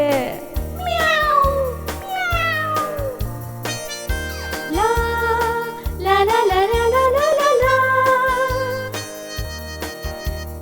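A voice imitates a cat's meows in a Gujarati children's song, with repeated drawn-out meow calls over a steady bouncy beat and music.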